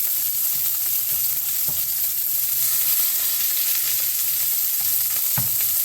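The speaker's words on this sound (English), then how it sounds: "you're just going to keep on flipping and frying" Loud, continuous sizzling of food frying in hot oil, with occasional clinks and scrapes of a utensil moving pieces around.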